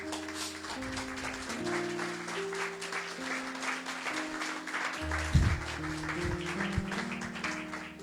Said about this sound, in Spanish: Dele un aplauso al Señor, mi hermano.